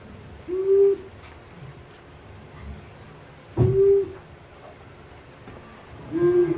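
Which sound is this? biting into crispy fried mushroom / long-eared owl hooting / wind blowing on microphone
long-eared owl hooting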